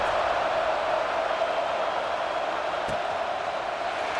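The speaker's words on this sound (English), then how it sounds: "this crowd is buzzing after that last score" Stadium crowd buzzing in the EA Sports College Football 26 video game, a steady diffuse roar of distant voices held at an even level throughout, with no distinct cheers standing out.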